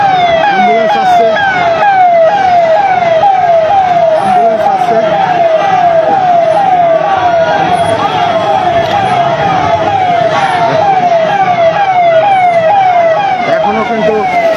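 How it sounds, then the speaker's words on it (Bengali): An ambulance siren wails in a steady, rapidly repeating electronic yelp on a crowded street, loud and continuous throughout with traffic noise underneath. "আপনার অ্যাম্বুলেন্স আসছে,"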